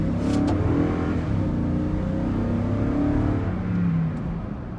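A 2018/19 Toyota Sequoia Platinum with the 5.7 liter engine accelerates from inside the cabin, a deep rising engine drone that climbs steadily in pitch over several seconds and eases slightly at the end.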